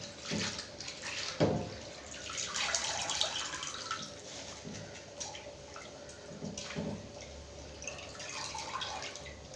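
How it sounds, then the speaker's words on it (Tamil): Spinach greens washed by hand in a basin of water in a home kitchen, with close sloshing, splashing and dripping in irregular bursts, fairly soft and with no talking. "நான் ரெண்டு தடவை கழுவிட்டேன் இது மூணாவது தடவை கழுவி அள்ளி வைக்கணும்"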